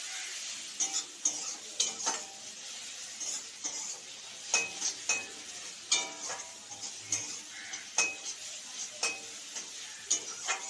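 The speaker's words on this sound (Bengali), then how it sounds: "পেঁয়াজ ভাজা হয়ে গেছে" Onions frying in a pan under a soft, continuous sizzle, broken by repeated sharp clinks and scrapes of a spatula stirring at a fairly regular pace throughout.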